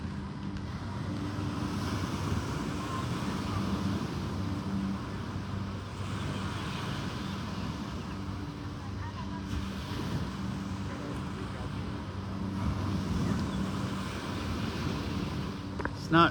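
Ocean waves washing onto a beach at sunrise, a steady broad surf wash with gentle swells rising and falling, mixed with low wind rumble across the microphone, no voices present.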